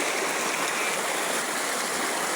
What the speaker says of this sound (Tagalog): Ito ang sapa.